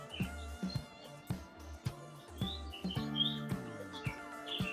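Birds chirping and calling in a bird sanctuary park, a run of repeated bright tweets close by, with several overlapping calls toward the end.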